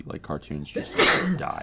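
A single sharp sneeze bursts out between stretches of casual podcast conversation, with people talking before and after it.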